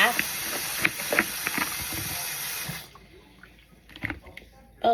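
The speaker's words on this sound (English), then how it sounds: "Then I'm just going to rinse it off, rinse the seeds off of them." Water runs from a kitchen tap as seeds are rinsed off a cut green pepper, a steady hiss for a few seconds that stops abruptly, followed by faint clatter and handling noises.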